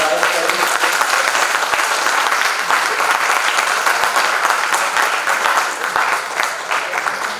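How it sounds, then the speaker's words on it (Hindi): Loud, sustained audience applause greets a theatre guest at a Lok Kala Akademy drama event at LNMU Darbhanga, with dense clapping continuing steadily throughout. "एक बार जोरदार ताली से सर का स्वागत करें।"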